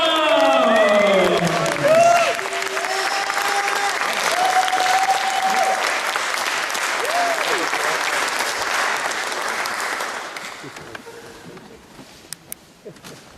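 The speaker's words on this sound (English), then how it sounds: "Everyone, put your hands together with a long, warm round of applause for the very fabulous Ashley Amber Bottoms!" A crowd at a Trans Pride event claps long and warmly, with whoops and cheers sliding over the dense applause before it dies down to a few scattered claps.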